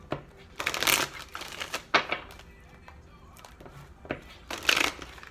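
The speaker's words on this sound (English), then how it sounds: "Y'all cards don't want to shuffle." Tarot cards are shuffled by hand in several bursts of crisp riffling and flapping, separated by softer handling clicks, close and fairly loud with no talk.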